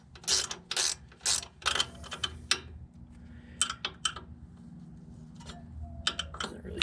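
Hand ratchet tightening a bolt on a car's upper control arm during a bushing replacement, a series of close, crisp clicking bursts in short groups separated by quiet pauses.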